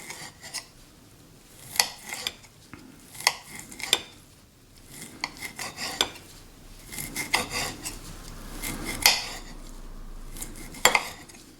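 A knife chopping ham into small pieces on a cutting board, with quick irregular taps and scrapes in bursts, close and fairly quiet, no talking.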